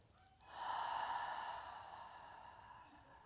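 One slow, deep breath drawn in and let out during a gentle core workout, close and soft, rising quickly then fading gradually over a couple of seconds.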